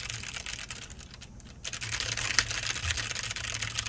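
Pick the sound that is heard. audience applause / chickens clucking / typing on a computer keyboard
typing on a computer keyboard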